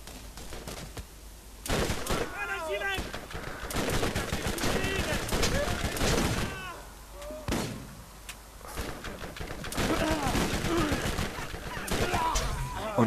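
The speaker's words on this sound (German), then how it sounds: "und jetzt ist die Schießerei groß" Rapid bursts of gunfire in the video game Borderlands crackle and pop in a dense, continuous shootout, with repeated shots layered over a noisy background.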